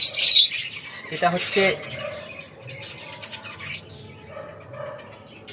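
Lovebirds in a cage in a new home aviary setup chirp and squawk sharply at the start, then settle into fainter calls while someone talks over them.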